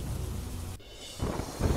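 Thunder rolls through heavy rain in Modasa, a low rumble swelling up after a steady rain hiss briefly drops out, with no voices.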